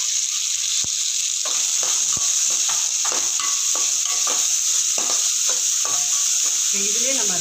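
Curry leaves, capsicum and carrot fry together in a pan with a loud, constant sizzle, broken by repeated scraping knocks of stirring.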